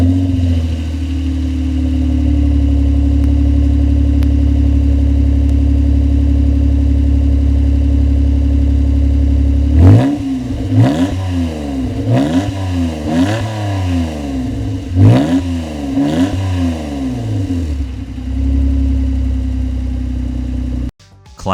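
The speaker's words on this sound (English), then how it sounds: "Classic Honda sound right there with a 252 horsepower coming out of that VTEC motor" A 1991 Acura NSX's 252-horsepower V6 VTEC engine idles steadily, then revs hard several times in quick succession, each sharp climb falling back before settling to idle again.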